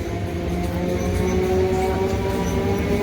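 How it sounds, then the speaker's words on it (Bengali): A train pulls into a station with a loud, steady rumble and a sustained mechanical hum that holds throughout, with no talk over it. "আমার ট্রেন চলে এসেছে"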